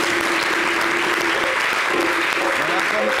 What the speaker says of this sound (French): je voulais qu'on l'applaudisse